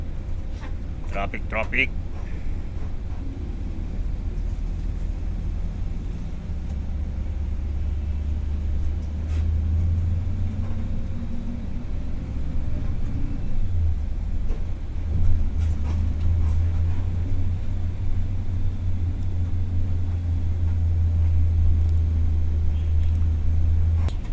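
Steady low road-traffic rumble heard from inside a moving bus travelling from Calasiao to Dagupan, engine drone continuous throughout with occasional clatter and faint talk underneath.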